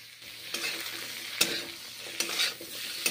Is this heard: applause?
no